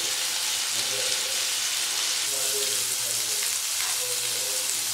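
Chicken tikka pieces fry in a hot pan while being turned over, giving a steady close sizzle with light scraping and stirring noises, with no talking.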